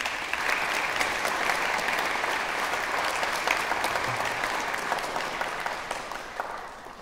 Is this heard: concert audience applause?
yes